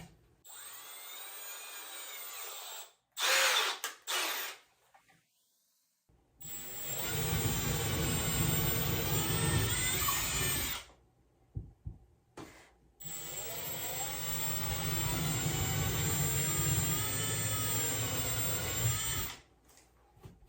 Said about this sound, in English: drill the holes, and get the anchors in the wall